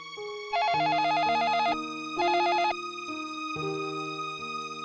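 A telephone call being placed: bursts of dial tones followed by a repeating ringback tone, clear and close, with no talking.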